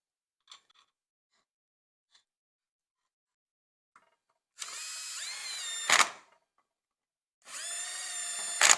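Power tool driving Torx bolts into the transmission case of a 2013 Ford Escape, two close whirring bursts of a driver spinning and ratcheting, each ending in a louder clack, separated by near silence with faint clicks.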